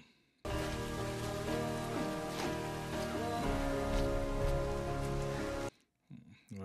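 Steady rain falls in a film scene where a man is put to work outside on a house, a dense even hiss of drops with music-like tones running beneath, ending abruptly into quiet.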